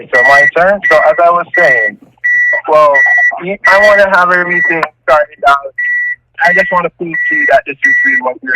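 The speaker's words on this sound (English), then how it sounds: "There's some beeping in the background." An alarm clock beeps in short, evenly spaced tones in the background of a heated Saturday-night phone call with scammers. The beeps continue steadily under a man's loud, continuous speech.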